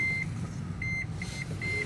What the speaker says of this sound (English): He's gotta get buckled up to make that beeping go away, right?